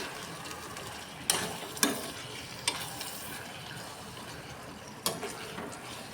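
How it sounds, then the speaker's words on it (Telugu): A spoon stirring drumstick and tomato curry with salt in a pan, a few scraping strokes and sharp knocks against the pan over a steady low sizzle, close and unvoiced. "కొంచెం ఉప్పు వేసుకొని అంతా కలిసేలాగా కలుపుకోండి"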